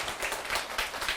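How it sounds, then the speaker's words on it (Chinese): Audience clapping at a talk by Dr. Hsu Tien-Sheng, heard as dense, steady applause from a close crowd that fills the whole short moment without pause. "所以我们也给这同学真的鼓掌一下哈"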